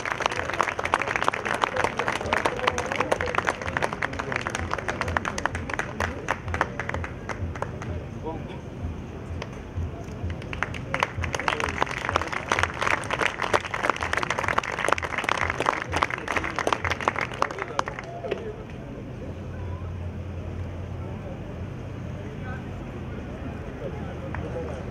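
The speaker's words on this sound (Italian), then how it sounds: "Ancora un grande applauso" Crowd applause for a Japanese high school marching band's director at a twinned concert with an Italian marching band, loud dense clapping that swells again midway and lasts around eighteen seconds before fading into quieter background sound.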